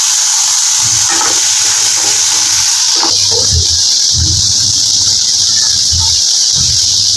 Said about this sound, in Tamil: இது கூட வெங்காயமும் தக்காளியும் சேர்த்து கொஞ்சம் வதக்கிடுவோம்.